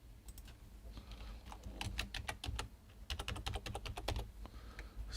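Password typed on a computer keyboard during an Amazon Web Services sign-in, a quiet, close run of rapid key clicks in uneven bursts with brief pauses, no speech.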